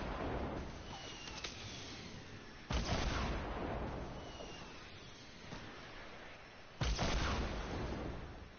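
Two heavy rocket blasts in Fortnite, each a sudden loud boom followed by a rumbling decay, spaced about four seconds apart over a constant low background of distant gunfire and noise.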